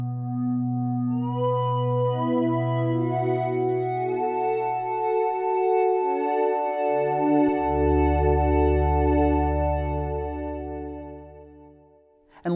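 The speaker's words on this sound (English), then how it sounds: "then you get to some nonlinear reverbs like a riser reverb" A KORG minilogue xd synthesizer plays sustained chords through its nonlinear riser reverb, the sound swelling and thickening as lower notes join in, then fading out before a short click at the end.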